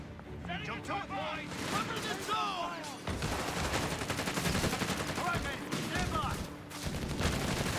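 Heavy machine gun fire in the video game Company of Heroes 3 crackles in long, dense bursts across a busy battlefield, mixed with explosions and brief in-game unit voice chatter.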